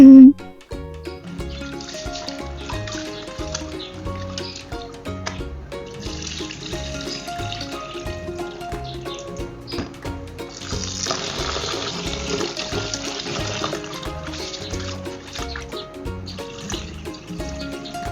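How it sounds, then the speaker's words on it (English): Tap water runs steadily into a kitchen sink as starch is rinsed out of food, a continuous splashing wash that swells louder partway through, with no talking. "I'm going to rinse a couple of times to ensure that the water is clear enough before I move to the next step"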